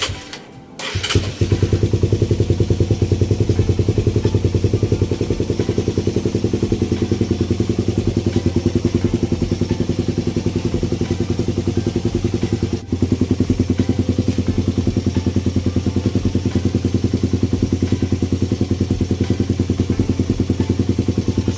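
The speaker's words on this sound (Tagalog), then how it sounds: "Bali, i-start na natin ang engine mga boss." A Honda Raider 150 motorcycle, freshly changed to fully synthetic engine oil, starts with a quick crank and catch, then settles into a loud, steady, close idle that runs throughout with one brief dip midway.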